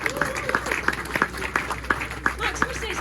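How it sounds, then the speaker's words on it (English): Press-conference audience applauding the bronze medalist Max Frick, a room of scattered hand claps in a steady patter, with speech-like sounds mixed in throughout. "Let's have a big round of applause for Max."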